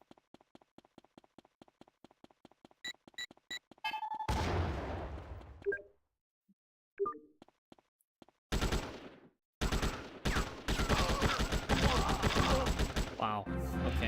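AK rifle fire in GTA: Chinatown Wars, beginning as a series of sharp, evenly spaced single shots, then giving way to dense, loud bursts broken by short silences.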